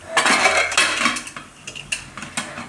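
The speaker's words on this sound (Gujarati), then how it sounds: "કુકરનું ઢાંકણું બંધ કરી દઈશું." Metal clatter of a pressure cooker lid being fitted and closed in a home kitchen while cooking green urad dal, a burst of clanks and scrapes followed by several sharp separate clinks, close by.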